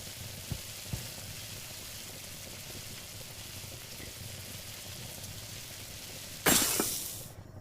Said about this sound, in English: just need noodles and a raw egg and just drop it in a pan